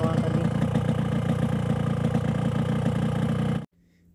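A hot two-stroke motorcycle engine running on Yamalube oil idles with a rapid, buzzy, even beat, loud and close, before cutting off abruptly near the end.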